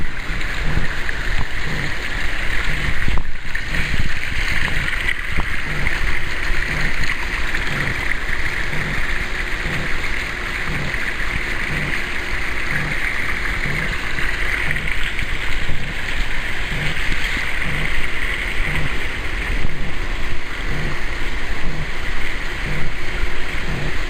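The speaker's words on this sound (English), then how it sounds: "waterfall is working well" A backyard pool fountain waterfall runs steadily, a continuous broad wash of splashing water lasting the whole stretch, with a faint rhythmic low thumping underneath, likely the pool pump.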